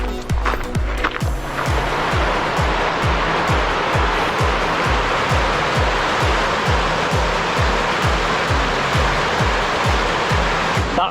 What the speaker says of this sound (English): I just pulled over at the top of this waterfall I just passed by